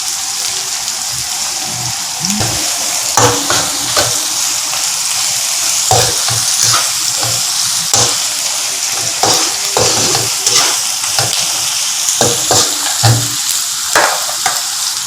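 Onions, green and red chillies and mint frying in a pan for mutton biryani, a steady close sizzle broken by repeated scraping and stirring strokes, with no talking.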